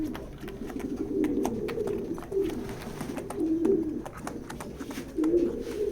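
Racing pigeons coo steadily in a loft, with soft repeated throaty calls close by and no talk.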